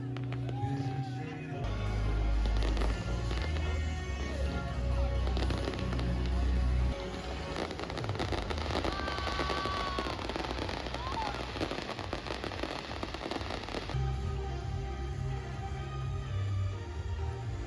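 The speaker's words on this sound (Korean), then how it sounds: "그리고 시작된 불꽃놀이." Fireworks burst and crackle continuously over a party in Groningen, Netherlands, amid a loud, dense wash of crowd noise, with rapid popping and booming throughout.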